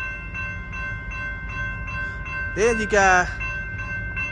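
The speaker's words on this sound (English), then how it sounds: "the train is finally moving to the crossing" BNSF manifest freight train at the Calwa Diamond Crossing in Fresno, California: a steady rail rumble with a repeating tonal drone, then a short loud horn-like blast near the end. Someone speaks briefly.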